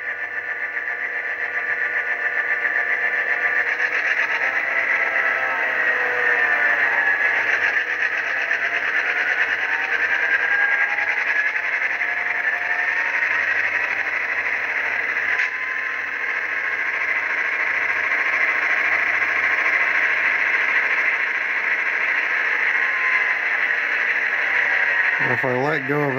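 A small diesel engine sound from a Walthers SD9 model locomotive hums steadily with a droning, buzzing tone, its pitch shifting slightly as it revs, holding constant for a long stretch.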